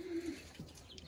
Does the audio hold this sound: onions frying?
no